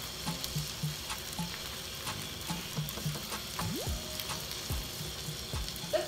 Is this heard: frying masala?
yes